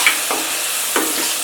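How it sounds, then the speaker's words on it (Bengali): Maggi noodles with chopped tomato stirred in a pan, a soft bubbling simmer broken by two distinct spoon scrapes, close and alone. "একে 1 মিনিট অবধি আমি আরও ভালো করে একটু নাড়াচড়া করে নেব, সেদ্ধ হয়ে যাবে।"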